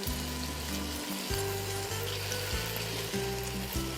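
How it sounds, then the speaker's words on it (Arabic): Rice sizzles and fries in a pot with a dense, even hiss, close and steady, while a low electrical hum pulses underneath. No voices are heard. "فالحين نزلنا العيش،"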